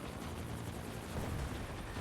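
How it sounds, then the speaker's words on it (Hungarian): Helicopter in the video game Max Payne 3, a steady loud rotor drone filling the whole stretch without a break, with dense low rumble and no voices on top. "Az a helikopter nem fog meglődözni?"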